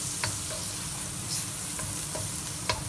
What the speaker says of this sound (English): You need to brown the garlic a little bit so that it will infuse its flavor.